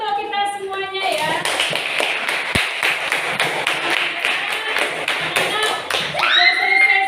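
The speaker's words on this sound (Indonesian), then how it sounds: "Tepuk tangan untuk kita semuanya ya" Schoolchildren in a fifth-grade classroom clap together in a brief, uneven burst, with sharp individual claps and taps close by and voices speaking at the start and end.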